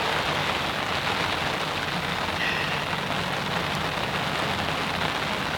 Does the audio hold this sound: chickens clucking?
no